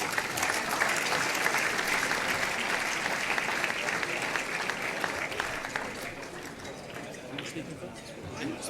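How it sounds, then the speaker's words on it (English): Audience applause at a Chinese New Year event with a prize draw, a long, full round of clapping from a large crowd that gradually softens over several seconds. "Let's give them a big round of applause."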